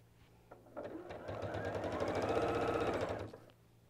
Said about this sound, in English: it is important to turn this around and sew from the other direction when you sew on the third